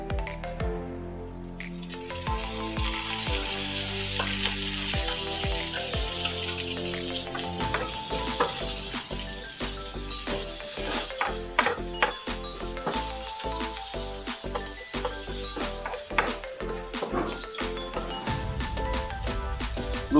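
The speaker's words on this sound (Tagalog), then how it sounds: "Gigisa lang natin ng konti." Chicken liver and gizzard adobo sautéing in a pan with whole peppercorns, bay leaves and star anise, a steady close sizzle and crackle with frequent spatula scrapes and clicks throughout.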